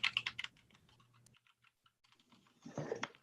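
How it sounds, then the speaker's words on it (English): Rapid clacking of keys on a computer keyboard during a meeting, a quick burst at first, then scattered lighter taps, then another flurry near the end, fairly close and quiet with no talk over it. "Yeah, I'm typing it up right now."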